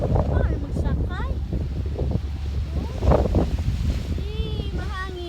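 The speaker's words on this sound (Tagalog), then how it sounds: "Mahangin." Strong wind buffets the microphone outdoors beside a ferry, a steady loud rumble with sea and surf noise underneath, while people talk and call out over it throughout.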